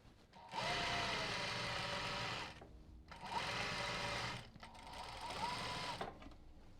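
Three long runs of steady, rapid sewing-machine stitching with brief gaps between them, close-up and alone, as fabric for a drawstring backpack is sewn around its edge.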